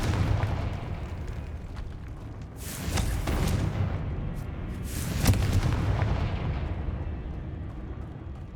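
Confringo blasting spell from the video game Hogwarts Legacy, two loud booming explosive bursts a couple of seconds apart over a steady low rumble, with no speech.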